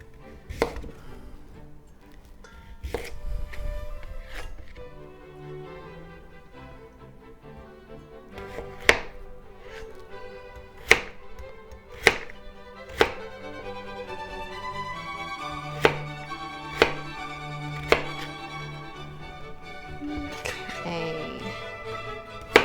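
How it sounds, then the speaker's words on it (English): Knife dicing vegetables on a cutting board for a vegan BBQ bean stew in a home kitchen, giving a series of sharp, spaced chops over a soft background hum with faint music. "Now let's dice them up."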